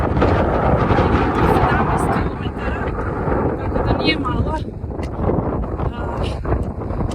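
Steady roaring wind buffeting the microphone throughout on an uphill walk across the Pyrenees, with a person talking over it.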